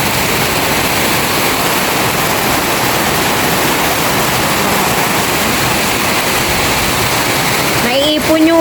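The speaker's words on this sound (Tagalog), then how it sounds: "Naiipon yung tubig sa may harap po namin." Floodwater pools and flows in front of a house, a loud, steady rushing wash that fills the whole clip, with a faint voice rising at the very end.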